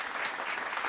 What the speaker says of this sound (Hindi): जोरदार तालियां आप एक बार जरूर बजाएंगे।